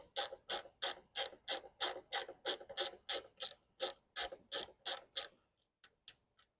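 A ratchet clicks quickly and steadily while loosening the 10mm bolts holding a BMW F30 tail light, about fifteen close, crisp clicks in a row, then a few scattered ticks, with no talking.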